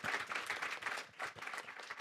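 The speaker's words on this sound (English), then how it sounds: "Let's give a round of applause for the panelists." A conference audience applauds the panelists after a discussion, a dense patter of many hands clapping for two seconds at moderate volume, heard from a distance.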